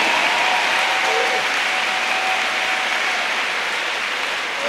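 A church congregation applauds to acclaim Jesus, steady dense clapping from a large crowd filling the room at full volume without a break.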